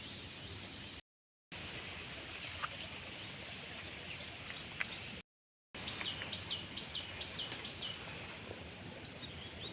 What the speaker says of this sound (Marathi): आजूबाजूच्या पक्ष्यांच्या ओरडण्याचा आवाज